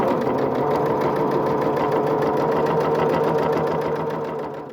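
A sewing machine stitches along a quilt border, running in one steady, close, continuous burst for several seconds before easing off at the very end.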